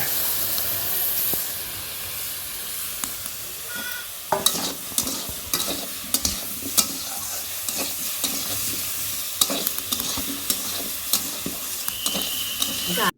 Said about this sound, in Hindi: जे हमर मसाला पीसल है उ दे के धीमा आंच में एकरा पकावल जाए